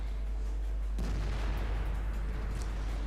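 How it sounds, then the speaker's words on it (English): Artillery fire in the World of Tanks video game, heard as one muffled, distant boom followed by a rumbling tail over a steady low engine drone. "Our artillery finishes him off."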